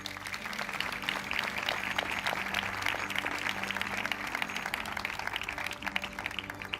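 An audience at the Zayed Award for Human Fraternity ceremony applauds a youth choir's performance with sustained, dense clapping that holds steady throughout at a moderate distance.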